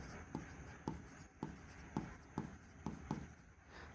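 Pen strokes scratch across paper in seven regular bursts about half a second apart, close and fairly quiet, with no voices present.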